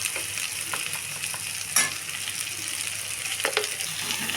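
Potatoes fry in a pan for poori curry, a continuous hissing sizzle with a few sharp knocks and scrapes of a spoon stirring, close and steady with no talk.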